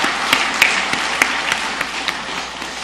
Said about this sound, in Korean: 우리 어르신들 모든 분들 건강하시라고 우리 감사의 박수 하도록 하겠습니다